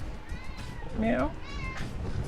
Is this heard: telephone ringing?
no